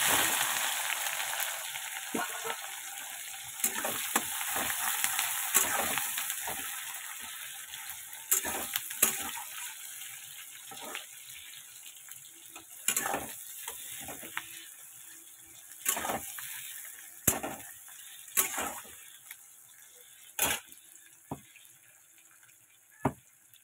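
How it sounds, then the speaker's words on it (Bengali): Chopped onion and tomato frying in a pan over tempered spices and bay leaf, a continuous soft sizzle broken by repeated sharp scraping and clinking strokes of a spatula, close and without talk. "এই যে পেঁয়াজটা কিন্তু লাল লাল ভাজা হয়ে গেছে, এরকম হালকা করে ভেজে নিয়েছি।"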